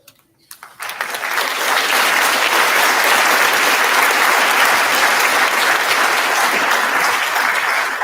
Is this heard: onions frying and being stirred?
no